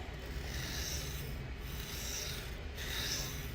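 Spyderco knife blade drawn across a Sharpal sharpening stone, steady close rubbing strokes with a soft rasping grit, repeated in long passes about every second and a half with brief pauses between.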